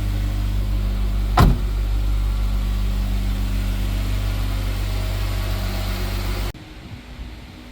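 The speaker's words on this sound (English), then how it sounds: "Crank it up, let it run for a second, then we'll check our oil." A Jeep 3.6 V6 engine idles steadily after an oil change, a low, even hum with a sharp click early on; the engine then cuts off, leaving a quieter hush.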